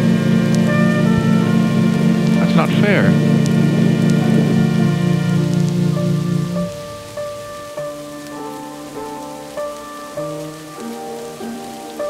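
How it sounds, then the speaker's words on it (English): Heavy rain pours down steadily and loudly throughout, with a brief voice near the start and music-like tones layered over the downpour, which thins slightly in the second half. "It's still raining. Why is it still raining?"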